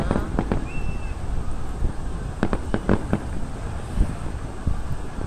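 A fireworks display marking a 71st anniversary crackles outdoors with a rapid run of sharp pops and bangs, some near and some distant, over steady wind noise on the microphone.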